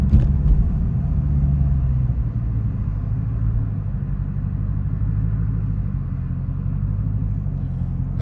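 Low, steady rumble from an SRT Hellcat engine idling close by, a continuous deep drone that holds level throughout with no talk over it.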